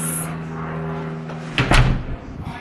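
An indoor door in a Las Vegas house opens with a sudden thump and rattle partway through, loud and close, following a steady low hum.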